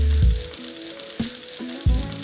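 Butter sizzles in a hot pan with chicken pieces for a creamy chicken stew, a steady close crackle broken by three sharper bursts of spitting as the food shifts.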